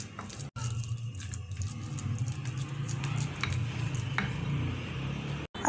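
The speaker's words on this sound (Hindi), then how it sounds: "कीमे को एक दफ़ा फिर अच्छी तरह से मिक्स कर लेते हैं।" Seekh kabab mince being kneaded and mixed by hand in a bowl after coal smoking, a steady close squelching and rubbing with faint bowl knocks throughout, no talking.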